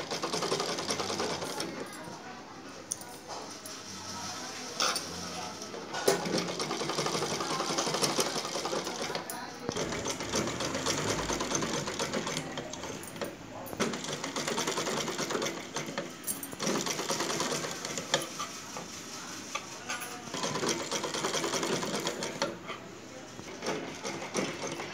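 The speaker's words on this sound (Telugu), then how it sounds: "మొత్తం ఇట్లా బ్యాక్ సైడ్ తిప్పేసుకుంటూ కొంచెం మాత్రమే పైకి కనిపించేటట్టుగా స్టిచ్ చేసుకోవాలి" Sewing machine stitching piping onto a blouse neckline runs in quick bursts of rapid clattering with short pauses between runs, close and fairly quiet, while someone talks over it.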